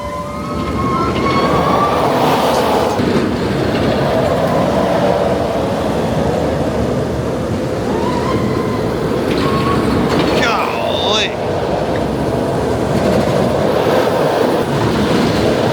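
The Wonder Woman Golden Lasso roller coaster at Six Flags Fiesta Texas roars loudly and continuously along its track, a dense rushing rumble with wind noise and rising screams from riders.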